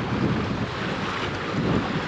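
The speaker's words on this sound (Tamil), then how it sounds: "ஆழத்தை விட தண்ணி அலை தெரியுதா எவ்வளோ ஃபாஸ்ட்டாக இருக்குது பாருங்கள்." Fast-flowing, rain-swollen water churns with waves in a steady, dense rush, continuous and fairly close with no voices and a touch of wind buffeting.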